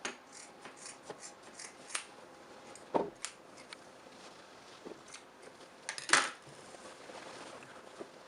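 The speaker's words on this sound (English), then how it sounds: "You will cut off the excess from this place." Scissors snip away excess fabric while a side-knot turban cap is made, giving quiet, close, scattered cuts and rustles with a few sharper snips and no speech.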